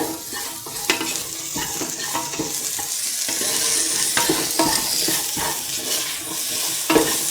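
Spoon stirring salt into a pan of carrot, tomato and coconut milk rice, with repeated scraping strokes over a steady background sizzle, close and moderately loud, no voices.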